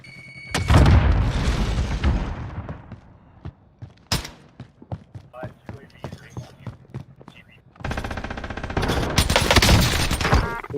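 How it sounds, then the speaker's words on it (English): Call of Duty-style video game combat with an MG-82 machine gun and a grenade: a heavy boom, a spread of sharp scattered gunshots, then another sustained burst of fire, with voices talking over the action. "Throwing grenade."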